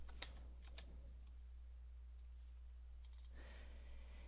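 Faint, quick clicks of fingers typing on a computer keyboard while entering spreadsheet formulas. A few clustered keystrokes come early, then quiet, then a brief soft burst near the end, all set against a low steady hum.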